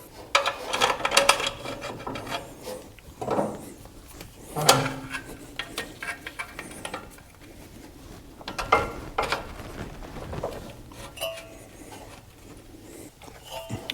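Metal wrench work on the wire terminals of a newly installed alternator, heard as scattered clicks, clanks and ratcheting at close range, with louder knocks in a few spots over a quiet background.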